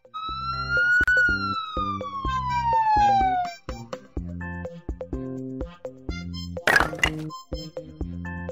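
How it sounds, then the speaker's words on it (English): An ambulance siren from a children's vehicle learning video wails in a long falling sweep, then switches to a rapid repeating two-tone pattern, loud and close, with a sharp crack near the end. "Ambulance."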